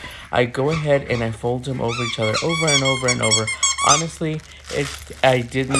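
A pet dog squeaks a toy while nearby someone talks continuously through a crepe-paper craft project. The squeaks are intermittent and partly buried under the close voice.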